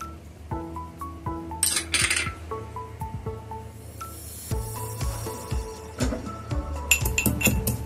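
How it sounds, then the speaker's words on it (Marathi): Coriander seeds and a little cumin pounded in a khalbatta mortar and pestle, giving irregular ringing metallic clinks and knocks at close range, with no voices. "आपण हे धने थोडेसे खलबत्त्यात कुटून घेऊया। धने आणि थोडे जिरे पण"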